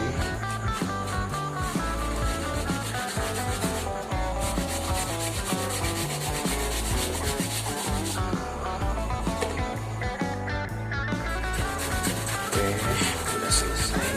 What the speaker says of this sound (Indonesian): Kita parut teman-teman sampai halus